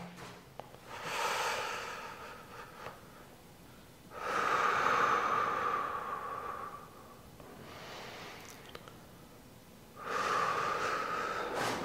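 Deep, slow breaths during a leg-stretching routine that works the front of the thigh, with three long audible exhalations or inhalations spaced a few seconds apart, close and clear with no talking.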